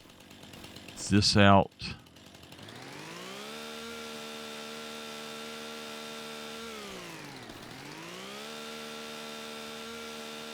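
A stump grinder in Farming Simulator 25 runs as a steady, droning motorized hum with a dip and recovery in pitch partway through, following a brief burst of a man's speech at the start.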